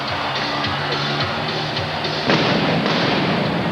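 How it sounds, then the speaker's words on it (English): Indoor fireworks at the Target Center arena during a Bulls–Timberwolves basketball game, with muffled pops and thuds over a constant crowd roar that swells into a louder burst partway through. "So they have fireworks here in the Target Center"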